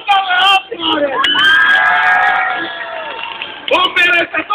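A live crowd at a Duudsonit show in the Helsinki exhibition centre in 2010 yells and whoops loudly, with sustained high shouting and a few bursts of clapping at the start and end.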